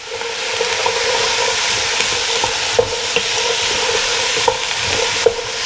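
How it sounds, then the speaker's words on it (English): Minestrone soup ingredients with pepper and granulated garlic stirred in a pot, a loud, steady sizzling hiss with a few light clinks of the spoon against the pot. "I'm gonna give that a stir"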